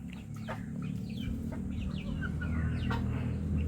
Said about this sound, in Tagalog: pinakawalan na rin po natin yung ating mga upgraded native yan